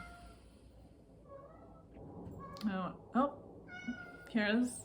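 A house cat meows several times, short rising calls at close range, mixed with a person talking softly indoors.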